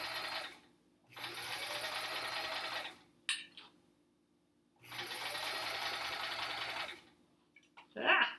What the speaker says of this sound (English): This is some chain piecing.